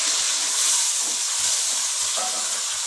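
Onions and tomatoes fry steadily in ghee in a village kitchen, giving a loud, constant hiss and sizzle throughout with faint low knocks underneath and no talk.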